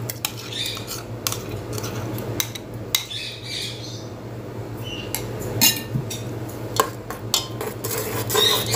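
A spoon stirs cashew-almond paste into a pot of boiling semiya payasam, giving repeated close metallic clinks and scrapes against the pot, uneven in rhythm, over a steady low hum.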